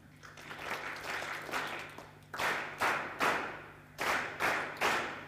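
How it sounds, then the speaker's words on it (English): An audience at a research dissemination forum gives three claps together, each a sharp, loud, unified burst. Softer scattered clapping comes before them over a low steady hum. "3 claps for all of them together."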